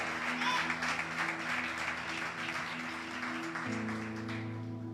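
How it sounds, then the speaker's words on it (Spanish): A church congregation applauds during a worship service, a steady patter of clapping over sustained organ or keyboard chords that shift to a lower note near the end. "Dele un fuerte aplauso al Señor."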